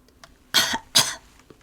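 A man coughs heavily twice in quick succession after being choked, voiced by an audiobook narrator; close and loud against quiet.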